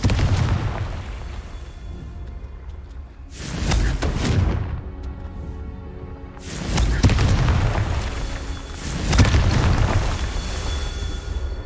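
Repeated Confringo explosive spell blasts in a wizarding video game, three deep booming bursts about three seconds apart, loud and close with rumbling decay.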